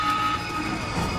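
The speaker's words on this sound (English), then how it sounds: "This is the sound of our transmission." A straight-cut gear transmission from the racing game Need for Speed The Run gives off a steady, high-pitched mechanical whine over a low engine drone, sustained and even throughout.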